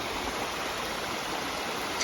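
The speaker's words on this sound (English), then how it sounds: "we're up above the waterfall, a little bit above the creek" Creek water rushes steadily near a waterfall at an old mill site, a constant broadband roar with no voices.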